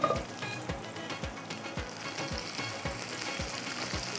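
Onion frying in oil for kebab in a home kitchen, a steady soft sizzle and crackle with regular low thumps of stirring or tapping, close but fairly quiet and with no talking.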